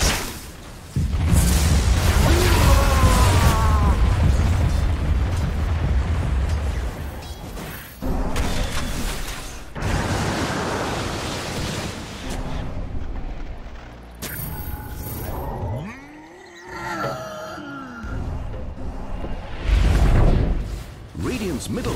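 Combat in Dota 2 as a tower comes under attack: whooshing strikes, mechanical clanks and booming impacts rise and fall, with a voice speaking over stretches of it.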